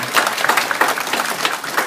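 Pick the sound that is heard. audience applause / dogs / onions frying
audience applause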